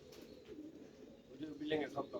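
Racing pigeons landing and cooing during a pigeon race, soft and faint, with voices talking over them.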